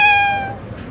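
A cat lets out a single clear meow, bright and close, that fades quickly into quiet room noise.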